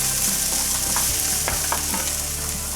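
Garlic and julienned carrots sizzling in a hot pan for a crab noodle stir-fry, a steady frying hiss with scattered clicks and scrapes of stirring, close and alone without talk.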